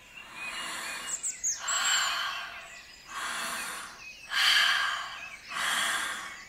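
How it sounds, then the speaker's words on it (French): Several deep breaths drawn in one after another, each a long airy inhale with short pauses between, close and fairly clear over faint outdoor ambience. "Et maintenant, j'inspire plusieurs fois profondément."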